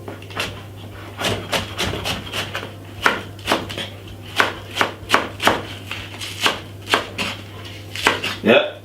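Knife chopping spring onion on a cutting board while preparing Jamaican foil roast fish, a steady run of about twenty crisp, close knocks in uneven rhythm with a low hum beneath.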